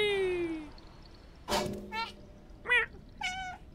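A cat meows several times in the video game Stray, short rising calls over quiet game ambience with a soft thud; a voice also says meow along with it.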